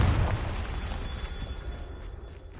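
In Hogwarts Legacy, a Confringo spell bursts in a loud, low explosion with a heavy initial boom that fades into a rumbling tail over about two seconds.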